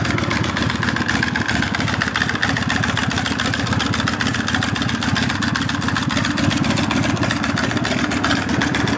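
A 2005 Texas custom chopper motorcycle idles with a loud, steady, rapid engine pulse that holds an even rumble throughout without revving.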